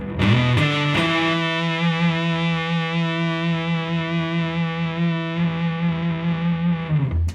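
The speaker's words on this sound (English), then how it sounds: "you just get that endless sustain thing that just, I love that about fuzz pedals" An electric guitar through a Red Witch Seraphina fuzz pedal holds a thick, heavily fuzzed note that rings on steadily for several seconds, loud and saturated, with no talking.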